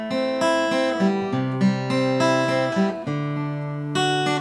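An acoustic guitar plays the arpeggiated intro to House of the Rising Sun, picking chord notes one at a time in a steady, flowing rhythm. The playing is close and clear, with no voices.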